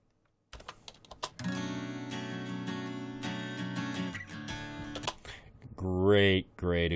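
An acoustic guitar track in a song mix enters after a brief near-silence, strumming bright ringing chords for several seconds, followed by a short sliding, warbling tonal passage near the end.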